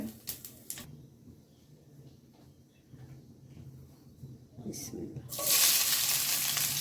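Very hot oil in a home kitchen pan bursts into a loud, bright sizzle as ridge gourd (dhundul) goes in for frying, after several seconds of quiet clatter and low room noise.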